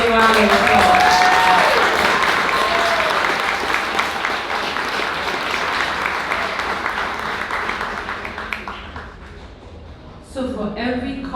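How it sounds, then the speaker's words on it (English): Graduates and guests applaud at a summer high school graduation ceremony, loud dense clapping sustained for several seconds before thinning out and fading, with a voice briefly resuming at the end. "So give yourselves a round of applause."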